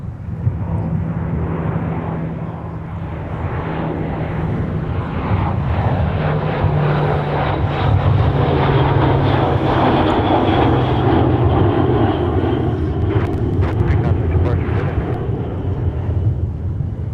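C-130 turboprop at Minneapolis–St. Paul airport, a sustained loud engine drone with a steady low hum, rising slightly in the middle and staying strong to the end, with no talk.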